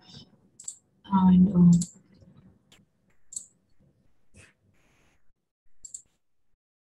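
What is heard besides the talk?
computer mouse clicking in an online game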